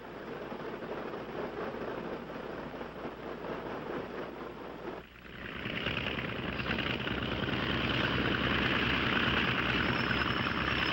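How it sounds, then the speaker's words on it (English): A small aircraft taxis to the warm-up block, its engine giving a steady droning rumble with cockpit vibration that dips briefly at the midpoint, then grows louder and brighter as it picks up power. "we taxi over to the warm-up block"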